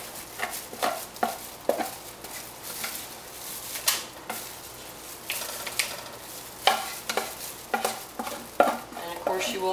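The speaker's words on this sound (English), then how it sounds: "Take your fudge batter," Thick fudge cake batter scraped from a bowl into a foil-lined baking pan, giving a run of regular close scraping and tapping strokes, each a short burst, repeating steadily.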